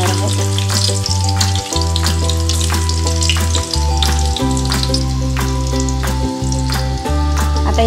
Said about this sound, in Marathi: आता इथे आपण लसूण टाकून तेलामध्ये घातलेलं आहे